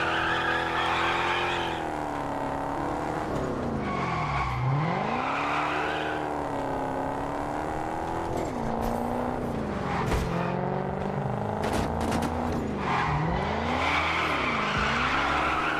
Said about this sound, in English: now Mustang drifting round a port